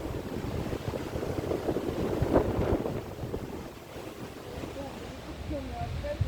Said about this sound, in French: Le vent s'est un peu levé, comme tous les après-midi ici.